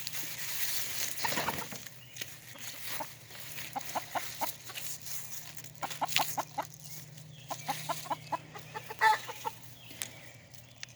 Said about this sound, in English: Chickens always freak out when I give them stuff